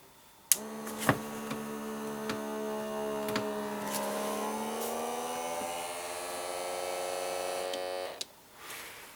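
A white Shijing P618 automatic pump suction cup switches on after a click and runs for about eight seconds with a steady buzzing motor hum, then clicks off, close up with no talking.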